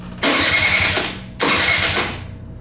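A Honda Aero 50 scooter is cranked by its electric starter in two separate whirring bursts, each lasting about a second, heard close up and without any talk.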